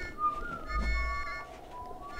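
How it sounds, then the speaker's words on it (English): A faint, steady whistle tone from the video game Pikmin 2 holds for a couple of seconds over low rumbling background noise, resembling a distant train whistle. "Sounds like a train whistle."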